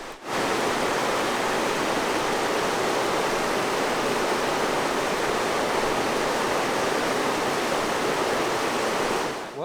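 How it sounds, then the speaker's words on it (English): Water in an Ozark spring creek rushes and boils up from the creek bed in a steady, dense wash of sound with no break and no voices. "you can see the water just boiling up out of the bottom of this creek"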